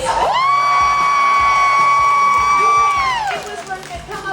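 A crowd at a formal night aboard the Disney Treasure cruise ship lets out a loud, sustained whoop and cheer, with shouts fading out toward the end.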